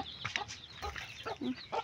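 Chickens cluck in short, faint bursts, several quick irregular calls overlapping one another at a modest distance.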